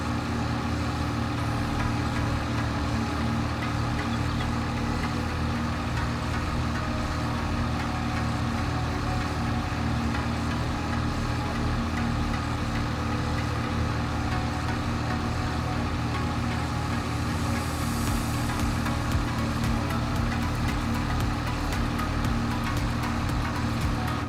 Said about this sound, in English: So let's get this tractor home.